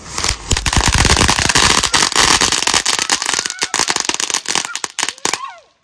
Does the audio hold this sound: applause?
no